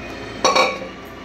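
A metal utensil clinks against a cooking pot while vegetarian food is mixed in a home kitchen, one short bright scrape or clink, close and fairly clear against a quiet background.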